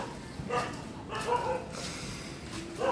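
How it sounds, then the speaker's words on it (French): Dogs arriving and barking outdoors, a few short yips and barks in separate bursts over steady background noise, moderately close. "Les chiens qui arrivent."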